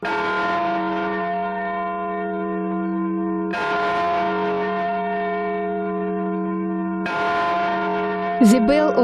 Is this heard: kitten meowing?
no